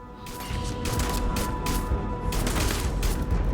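Rapid bursts of gunfire fill a Starfield firefight, dense and loud, with repeated volleys crashing over one another throughout.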